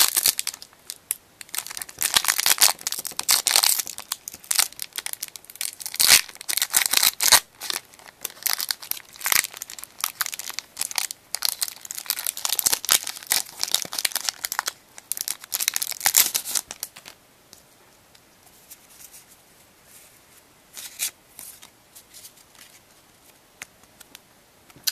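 A Pokémon card booster pack wrapper being torn open, with loud, close crinkling and ripping foil that rustles in irregular bursts, then softer handling noises toward the end.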